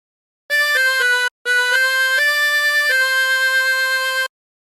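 A phrase is played on a 16-hole tremolo harmonica, with clear sustained reedy notes. A short opening run of notes breaks off briefly, then longer held tones follow, played solo and close.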